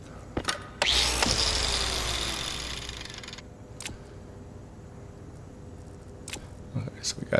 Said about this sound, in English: Hand drill.